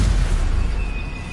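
The Incendio fire spell goes off in Hogwarts Legacy, a heavy, close booming whoosh that rumbles and then slowly fades over about a second.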